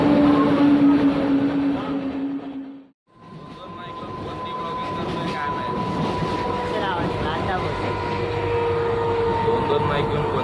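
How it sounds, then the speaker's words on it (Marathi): Train pulling into a railway station, a steady low rumble with a long sustained horn-like tone, close and loud, briefly cut off near the start, with voices and platform bustle around it. "हा ट्रेन आली"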